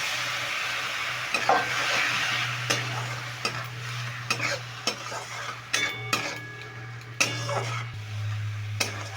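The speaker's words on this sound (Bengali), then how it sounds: "এবার একটু জল দিয়ে জল দিয়ে আমি মশলাটাকে একটু কষিয়ে নিচ্ছি" Spice paste with cumin powder sizzling in a pan after a splash of water, a steady frying hiss broken by repeated spoon clinks and scrapes against the pan, close and fairly loud over a low hum, no voices.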